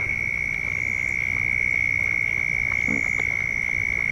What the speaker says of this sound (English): listen to these frogs